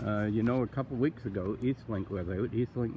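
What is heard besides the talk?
No everyday noise stands out behind the speech.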